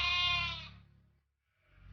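A single loud sheep bleat, wavering and nasal, fades out into near silence before faint farm noise returns.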